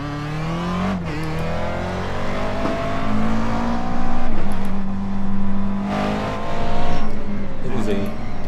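McLaren race car engine in iRacing at Laguna Seca, carrying a full fuel load, roars steadily with rising and falling revs through gear changes, loud and close, with a voice talking over it.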